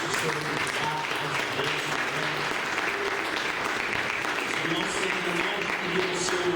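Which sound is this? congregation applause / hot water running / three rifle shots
congregation applause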